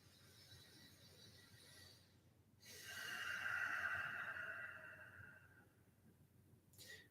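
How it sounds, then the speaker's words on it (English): A single deep, slow breath during qigong practice rises as a soft, airy swell, then fades back into quiet room tone, with a faint rustle near the end. "Just pause here just for one deep breath for now"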